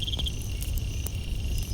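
Cicadas sing at evening near mango trees in an African setting, a steady high insect buzz with brief chirping pulses over low ambient rumble, fairly close and continuous.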